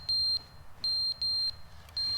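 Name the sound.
carbon monoxide alarm beeping in video game The Stanley Parable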